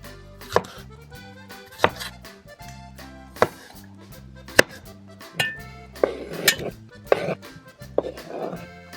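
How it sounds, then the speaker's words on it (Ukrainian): A peeled tomato cut into rough quarters with a knife on a board for shakshuka, several sharp chopping knocks spaced about a second apart, with brief clinks of utensils between them and no speech. "Розрізаємо на 4 частини. Отак, крупно."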